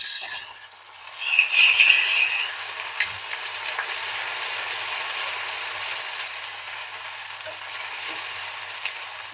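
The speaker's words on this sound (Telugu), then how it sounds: "ఇప్పుడు ఇందులో అల్లం వెల్లుల్లి పేస్ట్ వేసుకుందాం ఈ అల్లం వెల్లుల్లి వేగేలోపు ఆనియన్ కూడా పూర్తిగా బ్రౌన్ అయిపోతుందండి" Onions and ginger-garlic paste fry in hot oil for a boiled egg curry. A steady, close sizzle swells loudly for a moment early on, then settles into an even crackle with faint stirring clinks and no talk.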